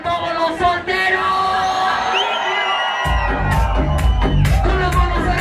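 A nightclub crowd of singles yells and whoops together, a loud cheer that swells over pounding bass music while an MC shouts over it.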